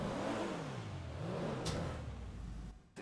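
Inside GTA V Online, a car engine revs up and down in a few rising and falling sweeps, then settles to a lower hum before a short drop, fairly faint and without talk.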